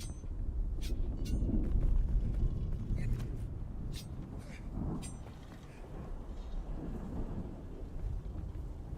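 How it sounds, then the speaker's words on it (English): A large sandstorm sweeps in across the desert of the Dune video game, a steady, heavy roar of low wind and rumble that swells and eases throughout, with faint higher gusts and clanks scattered over it. "A large sandstorm is approaching."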